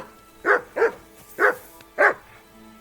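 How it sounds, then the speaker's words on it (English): Dog barking in the video game Kingdom Come Deliverance 2: four loud, close woofs spaced about half a second apart, alone with no talk over them. "Call off that damn dog!"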